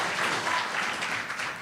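Applause from the floor of a special town meeting, a dense, steady patter of many hands spread across the room, moderately loud and continuous for its brief length, with no talk over it.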